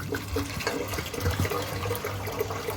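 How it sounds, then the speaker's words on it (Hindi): Water is poured into a pot of chana daal simmering with cumin, dried chilies, turmeric and garlic, making a steady, moderately loud splashing and gurgling that lasts throughout. "साथ ही इसमें मैं पानी ऐड कर दूंगी।"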